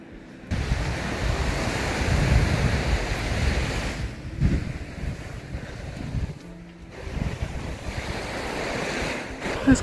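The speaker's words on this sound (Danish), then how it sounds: "Og der er lidt bølger." Small waves wash steadily onto a stony beach at Nr. Vorupør. The surf is close and continuous with heavy wind noise on the microphone, the sound dipping briefly in a couple of places, and no one speaks.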